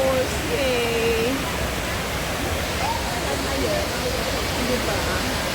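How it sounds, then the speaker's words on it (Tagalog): A large waterfall in Hong Kong Park gives a steady, loud, broadband rush of falling water that runs unbroken throughout, with a person talking over it. "Tsaka yan ang malaking waterfalls."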